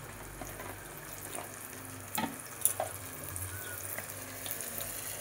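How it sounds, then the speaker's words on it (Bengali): Water splashes briefly into a bowl as spice paste is rinsed out while cooking a boal fish kalia, a few soft sloshes and clinks over a faint steady kitchen background. "একটু বাটিটা ধুয়ে দেবো জল দিয়ে।"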